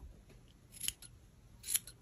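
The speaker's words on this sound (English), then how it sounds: "Now there's a few stragglers, so what you wanna do is just take your scissors" Scissors trim stray yarn ends from a finished pom-pom. Two crisp, quiet snips come close to the listener, about a second apart, against a near-silent background.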